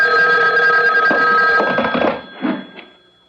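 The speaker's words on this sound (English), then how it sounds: "The phone. At this hour?" A telephone rings in a radio mystery drama, a loud continuous electric bell trill that cuts off, followed by a soft clunk as the receiver is lifted.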